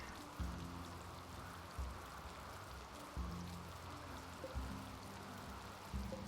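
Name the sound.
rain falling in the video game Rimworld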